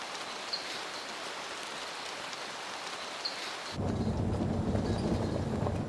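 Steady rain hisses in the jungle, with a low rumbling thunder swell rising toward the end and growing louder, no voices.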